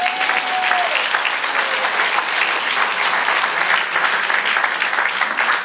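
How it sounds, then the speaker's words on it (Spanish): Sustained applause from a church congregation fills the room, dense and steady throughout with a faint sung or spoken tone briefly above it near the start. "Denle un aplauso al Señor."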